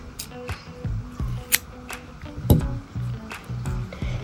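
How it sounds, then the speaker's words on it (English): Scissors snipping crochet yarn, several sharp close clicks and snips in an uneven rhythm, with soft handling rustles between the cuts and no talk. "cut off your yarn"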